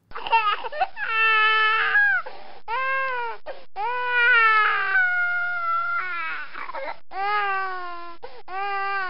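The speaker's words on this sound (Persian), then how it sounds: "یک باره صدای گریه بچه سنجاب بلند شد" Crying of a baby squirrel in a children's story, a high, tonal wailing that comes in several drawn-out, sobbing bursts with short breaks between them. It is close and loud and fills most of the nine seconds.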